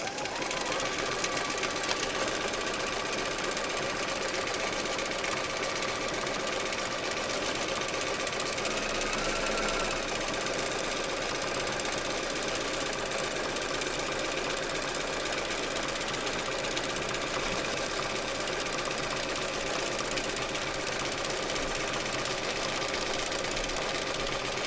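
Sewing machine stitching free-motion quilting, the fabric guided with quilting discs; a continuous, close mechanical whir and rapid needle chatter run evenly throughout, with no talk over it.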